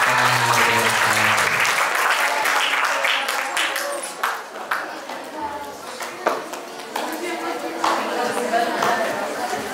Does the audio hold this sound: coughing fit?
no